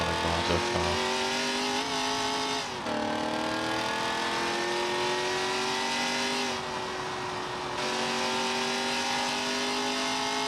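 Corvette C6 ZR1 mod in BeamNG.Drive, its engine revving hard and loud with rising pitch through gear changes and a brief tire squeal, racing continuously close up.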